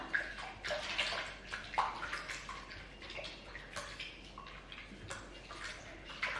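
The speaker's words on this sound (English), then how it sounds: "add 375 mils of room temperature water" Room-temperature water runs steadily into a bowl of rye sourdough starter, a continuous close splashing and gurgling pour lasting throughout with a few brighter splashes.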